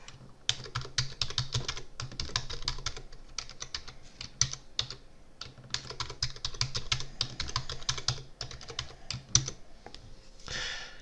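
Rapid typing on a PC keyboard while setting a root password during a home lab virtualization install: dense, steady clatter of close keystrokes in bursts with a few short pauses, no voices.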